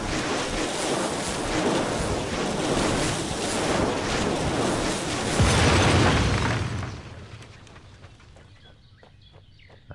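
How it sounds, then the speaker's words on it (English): A building blows up in the strategy game Cossacks 3, heard as a sustained, loud roaring rumble of explosion and crumbling debris that fades after several seconds into a quieter ambient background. "And that is one destroyed building."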